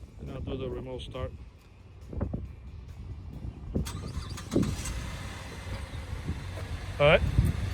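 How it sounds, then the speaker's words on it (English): A Chevy Impala engine is started by its factory remote start. After a brief voice, the engine cranks and catches, then settles into a steady idle with outdoor wind noise. "All right, so the car is started by remote control."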